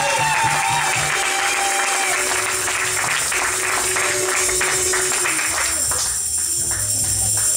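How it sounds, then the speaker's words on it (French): A church congregation claps and cheers continuously and loudly throughout, dense applause filling the hall with voices rising underneath. "On acclame encore très fort notre Seigneur."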